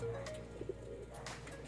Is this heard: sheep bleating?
no